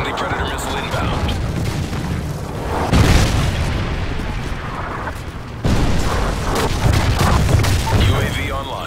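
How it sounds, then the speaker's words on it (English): Predator missile explosion in Call of Duty, a deep booming blast rising out of dense, continuous battle noise, with a second heavy impact a few seconds later and a steady roar underneath. "Friendly Predator missile inbound."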